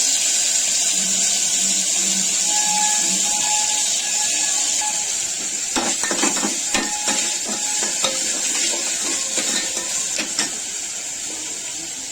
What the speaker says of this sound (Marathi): पहा कशी तडतडत आहे